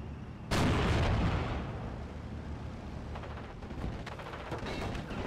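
A Pak 40 anti-tank gun fires in Steel Division: Normandy 44 on the Colombelles map, with one heavy, booming shot that rolls off into a long rumble, followed by scattered fainter battle noise.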